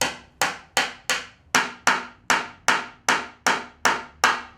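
A hammer taps nails back through pallet wood in eleven sharp, evenly spaced blows, each a bright crack with a quick decay, close and loud with no talk.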